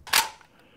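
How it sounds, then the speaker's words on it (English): Gunshot sound effect for a practice film: one sharp, loud crack close by with a short, fading tail. "now we have some of our first gun sounds"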